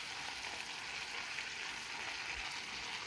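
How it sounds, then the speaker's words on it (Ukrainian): Sausages and vegetables stewing in a pan give off a steady, even sizzle with a soft bubbling hiss that holds at a constant level throughout, close by and alone. "Все так гарно тушкується"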